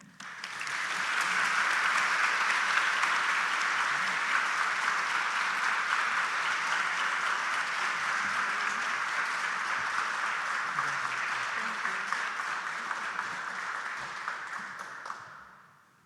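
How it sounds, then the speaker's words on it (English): Sustained audience applause at a senior citizens hall of fame induction ceremony in Ohio, a dense steady wash of many hands clapping that holds for about fifteen seconds before fading out. "please join me in another round of applause"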